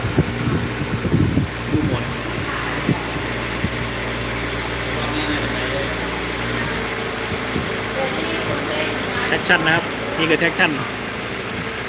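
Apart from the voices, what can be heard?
motorcycle engine running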